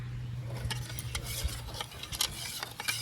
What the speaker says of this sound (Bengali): এটাকে আমি আগে ঘাটিয়ে নিই